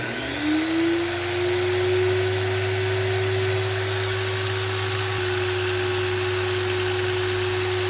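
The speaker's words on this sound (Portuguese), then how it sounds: "Vou ligar aqui novamente a Makita." A Makita M9510B angle grinder runs at no load on 110 V, spinning up from a brief rising pitch into a steady, loud, unbroken whine with a low motor hum underneath, and no talking.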